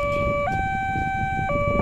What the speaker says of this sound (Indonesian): Mengikuti irama suara sirine kalau diperhatikan.